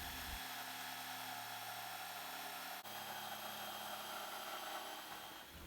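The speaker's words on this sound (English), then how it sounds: "Here I'm using a jigsaw because it doesn't really matter if the cut is perfectly straight." A jigsaw cuts through wood for an end table shelf, a steady high whining buzz that runs continuously at close range with one brief dip partway through.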